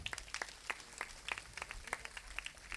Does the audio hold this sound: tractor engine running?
no